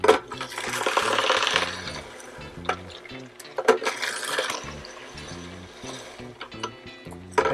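A Green Power Kempo slow, quiet juicer crushing produce, with a low grinding hum and irregular cracking, clicking snaps as pieces are pushed through, up close with no talking.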